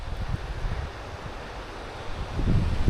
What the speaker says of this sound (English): It's that waterfall down the valley.